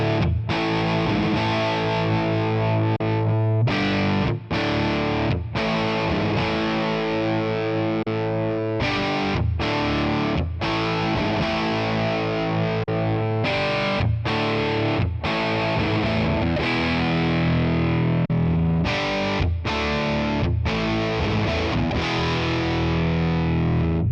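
Distorted electric guitar chords strummed through a ToneX ONE pedal running a Matchless amp model, loud and sustained with rhythmic breaks between chord hits, played alone without talk.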